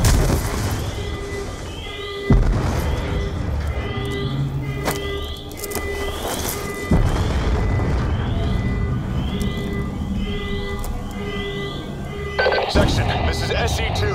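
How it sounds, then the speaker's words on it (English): Repeated deep booms and blasts of multiple explosions across a facility punctuate a dense, noisy Call of Duty: Black Ops II soundscape, with a periodic electronic ringing tone and a few sharp impacts. "We're monitoring multiple explosions across the facility."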